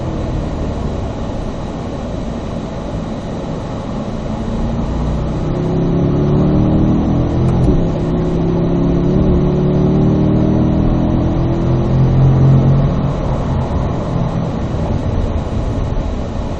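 A Chevrolet Corvette on a race track accelerates in third gear, its engine note climbing steadily under heavy wind and road roar, sustained and fairly loud with no voices.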